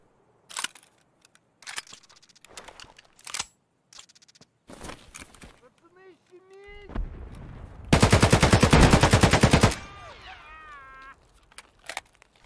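Gunfire in the shooter game Escape from Tarkov: sharp single shots and short bursts scattered through the clip, then a loud sustained automatic volley near the end, with no talking.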